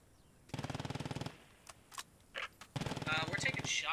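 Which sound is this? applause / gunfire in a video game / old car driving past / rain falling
gunfire in a video game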